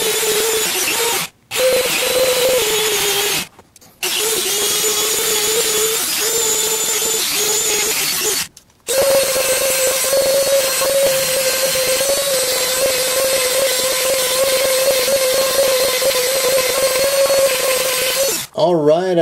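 A Dremel rotary tool with rouge polishing guitar frets, a loud steady high whine running for long stretches with a few brief stops.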